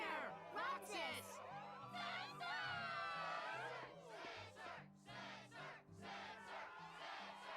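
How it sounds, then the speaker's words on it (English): Cheering crowd at a Struggle tournament in Kingdom Hearts II, a loud wave of massed shouts and excited voices that rises and falls over a steady low game music bed. "Crowd is fired up, so you know what comes next."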